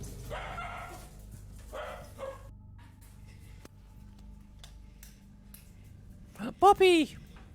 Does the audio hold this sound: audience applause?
no